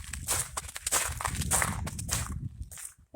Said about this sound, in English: I'm kind of crunching on the ice.